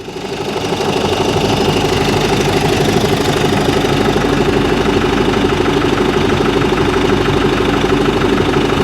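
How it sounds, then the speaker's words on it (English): A Nissan Navara Tekna pickup truck engine idles steadily up close, a continuous low rumble with a rapid, even knocking pulse that holds unchanged throughout. "So the engine sounds fine."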